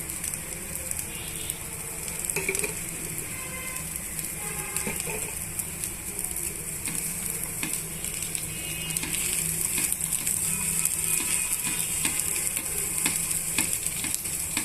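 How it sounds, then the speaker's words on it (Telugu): Onion dosa topped with onion pieces frying in spread oil on a pan, a continuous close hiss and crackle with faint scattered ticks, steady and alone without talk. "దోశని వన్ మినిట్ అలా వేగనిద్దామండి"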